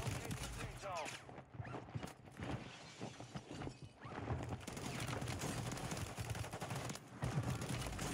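Gunfire from a DG-56 rifle in a video game, dense repeated bursts of shots running almost continuously, loud and close, with a brief lull near the middle.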